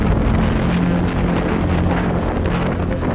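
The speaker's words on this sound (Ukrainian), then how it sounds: "Такого сильного вітру я в своєму житті ще не відчував." Strong wind buffets a coastal viewpoint above the wild Cofete shore on Fuerteventura, a loud, continuous roar with heavy rumbling gusts battering the microphone throughout.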